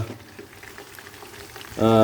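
Chicken frying in hot oil in a pan gives a steady, close crackling sizzle, and a loud harmonic burst near the end, likely a voice, sits over it.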